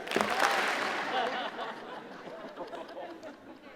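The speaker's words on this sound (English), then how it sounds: "True clap for that guy." Convocation audience at the University of Calgary applauding, a dense wash of clapping that starts strong and slowly thins, with some chuckling and murmuring mixed in.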